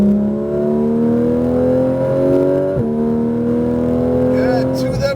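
Race car accelerating hard around the Speed Vegas track, the engine's strong steady drone climbing in pitch, briefly dipping at a gear change, then pulling loudly again close to the microphone.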